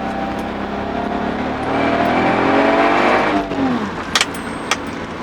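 A Toyota-built Lexus IS200 engine with a failing fifth cylinder runs with an uneven, droning tone that dips and wavers, followed by a couple of sharp metallic clicks near the end.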